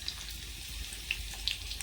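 Faint, steady frying hiss with a few small pops and crackles as crushed garlic sizzles in hot ghee for a tempering in a pan.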